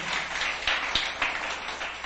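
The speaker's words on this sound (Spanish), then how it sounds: "Dele ese fuerte aplauso al Señor" A church congregation applauds in a steady wash of clapping, moderately loud and sustained, with a few sharper claps standing out over the crowd.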